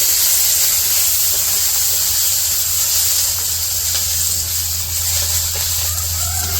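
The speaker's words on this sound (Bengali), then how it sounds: "এখন দিয়ে দিল ওই যে কাঁচামরিচ, দিয়ে দিল রসুন, কাঁচামরিচ রসুন একসাথে ভাইজা নিব।" Green chillies and garlic frying in oil in a pan over a village cooking fire, a dense continuous sizzle and hiss, close and loud, with a steady low hum beneath and no clear talk.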